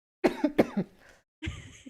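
A few harsh coughs in quick succession, close and loud, followed after a short pause by another rough cough or throat clear.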